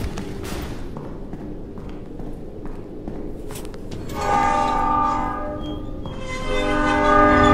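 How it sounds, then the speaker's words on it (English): Rumbling rail noise builds, then a loud train horn in a Roblox video game sounds in two long blasts approaching a crossing, the second rising above the clatter. "So engineers can blow a horn when they approach a crossing."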